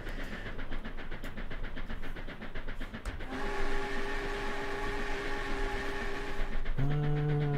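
A steam locomotive in the train game Trainz: A New Era chugs steadily with rhythmic puffs, then a long whistle sounds and holds, swelling louder near the end.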